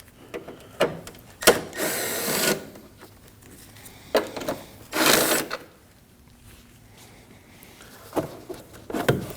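Ratchet backing out 10mm bolts on the air duct of a 2003-2006 Subaru Baja 2.5L H4 engine bay: a few separate bursts of close, rapid clicking with quiet pauses between.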